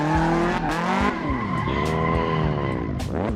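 Tires squeal loudly as a car skids and spins out in Assetto Corsa on a dry track, the screech wavering continuously over engine revs for a few seconds.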